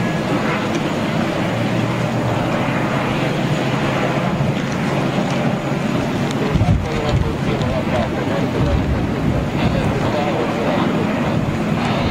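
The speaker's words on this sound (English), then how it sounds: "on the departure roll on 3-1 left" A jet airliner rolls for departure on runway 31 left, a steady broadband roar heard from a distance and mixed with wind buffeting on the microphone, holding level throughout.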